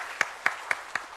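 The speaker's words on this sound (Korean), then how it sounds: "우리 하나님께 박수로 영광을 드리겠습니다" Four evenly spaced sharp claps ring out, a slow rhythmic clapping from a church congregation during a Sunday service rather than full sustained applause.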